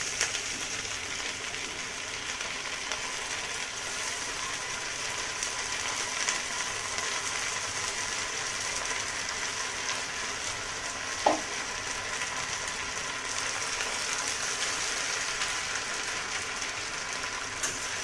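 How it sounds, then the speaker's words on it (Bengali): Pre-boiled chowmein noodles frying in a pan for a vegetarian dish, a steady broadband sizzle with light stirring and scraping, one brief clink near the middle, no talking. "চাউমিনটা ভালো করে ভেজে নেবো কেন আগে থেকে সেদ্ধ করা ছিল চাউমিন"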